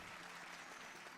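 A short burst of applause plays as a sound effect during a Super Mario Odyssey speedrun stream. The clapping is faint and even, lasting about a second, with no talk over it.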